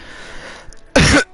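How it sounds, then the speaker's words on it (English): A person coughs twice close to the microphone, loud harsh bursts following quieter background chatter and noise. "They're coughing and all that other stuff under the mic."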